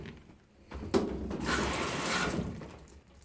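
A GE top-load washing machine begins a warm wash cycle, water rushing and gushing as it fills, rising after a click and holding steady before tapering off.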